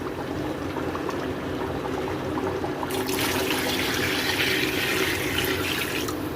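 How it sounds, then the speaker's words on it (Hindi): Water is poured into a cooking pot of browned Lahori-style beef bong paye. After a quieter start, a bright, rushing splash begins partway through and keeps going steadily to the end. "अब मैं इसमें पानी ऐड करने लगी हूँ।"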